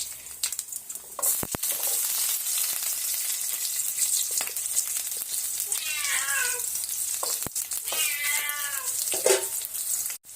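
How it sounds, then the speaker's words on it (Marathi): Sliced onion with tomatoes fries in a pan with a steady, fairly loud hiss and a few sharp clicks of stirring, while a cat meows twice partway through. "ह्यात आपल्याला कांदा टाकून घ्यायचा आहे कांदा एक घेतला आहे मी त्यासाठी आणि तो लांबट कट करून घेतला आहे जेणेकरून भाजला गेला पाहिजे"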